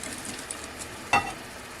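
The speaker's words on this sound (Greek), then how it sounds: "Ανακατεύουμε." Spoon clinks and scrapes once against a bowl while ground cloves and cinnamon are mixed together, a single short stir over a quiet room background.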